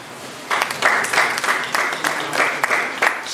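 Audience clapping breaks out at a Lagos State Community Water Stakeholders Group inauguration as names are read out, a dense broadband patter of many hands that swells after a quiet start and holds steady, fairly close.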